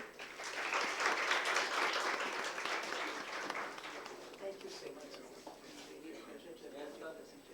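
Loud applause from a conference audience fills the space, gradually thinning out as a voice begins speaking over the fading claps.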